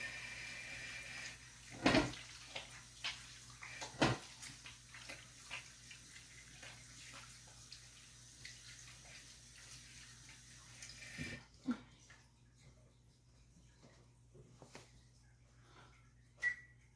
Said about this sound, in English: I'm just gonna wash my hand, make sure they're clean,